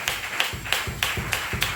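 Rhythmic clapping at a church service, sharp regular claps about every third of a second, fairly close and steady with no voice over them.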